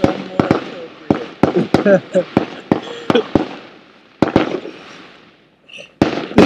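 Fireworks set off on a reservation during a vigil crack in quick, uneven bursts, close, loud and percussive, with a brief quiet gap before more snaps; a voice speaks between the blasts.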